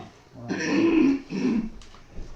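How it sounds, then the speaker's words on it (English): Someone clears their throat, a low gravelly rasp in two short bursts, close by and otherwise quiet. "I can clear my throat"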